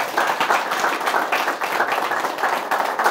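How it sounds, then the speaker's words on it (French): An audience claps loudly and steadily to welcome the sales director of Canal+ Burkina at a business talk event, with fairly dense, rhythmic hand clapping filling the whole stretch. "que nous allons applaudir très très fort"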